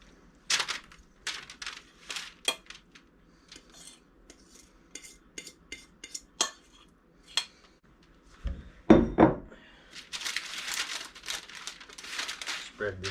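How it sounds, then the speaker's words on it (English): Pizza dough is worked in a bowl with a utensil, giving irregular scrapes, taps and clicks, a heavier thump partway through and a run of rustling scuffs near the end. Someone talks intermittently between the sounds. "Just had to mix it some more"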